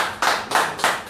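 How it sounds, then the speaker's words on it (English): Three distinct claps at a steady, slightly slow rhythm, close and moderately loud, from a few hands at a fundraising gathering of a social welfare foundation in Edo State. "Come on, clap for me."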